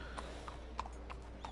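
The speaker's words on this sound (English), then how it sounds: "This horse here of mine, she's a thoroughbred." A thoroughbred horse's hooves in Red Dead Redemption 2 clop steadily in an even walking rhythm, about five distinct hoofbeats over a low continuous background rumble.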